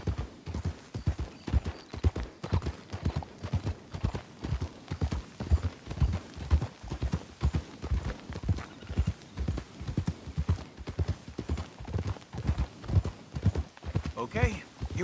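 Horse hooves clip-clop in a steady walking rhythm along a trail in Red Dead Redemption 2, close and distinct, with a brief whinny and someone talking over them.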